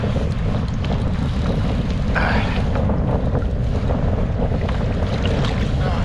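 Rough sea waves and strong wind batter a fishing kayak in a storm, with a constant loud roar of wind on the microphone and surging water filling the whole stretch.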